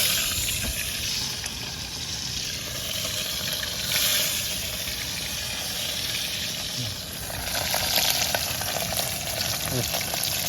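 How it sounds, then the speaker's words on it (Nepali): Two fish fry in a pan with a steady, close sizzle and crackle of hot oil, cooked outdoors beside the Kali Gandaki river, and the sound continues throughout. "दुईटा माछा फ्राई गर्ने"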